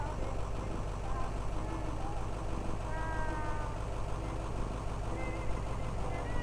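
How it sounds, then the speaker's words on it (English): A cat in the Night Bus horror video game meows repeatedly while being petted, several rising and falling calls heard over a steady low idling bus engine rumble. "Let's pet the cat."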